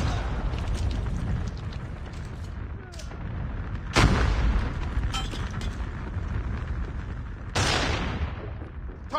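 A frag grenade blasts in Call of Duty: Mobile, with two heavy booms about four seconds apart over constant rumbling battle noise and gunfire, close and loud.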